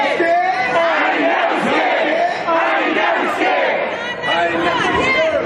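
A large crowd at an outdoor rally shouts a chant in unison, loud rough massed voices rising and falling in waves for several seconds.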